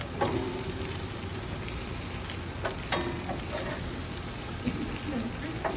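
Pork ribs seasoned with soy sauce sizzle steadily in a hot pan as they are flipped to brown, a dense continuous hiss with occasional clacks and scrapes of turning the meat.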